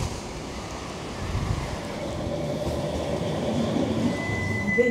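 A Manchester Metrolink tram runs with a steady, moderately loud rumble and rail noise, a faint high tone appearing near the end, with no voices over it.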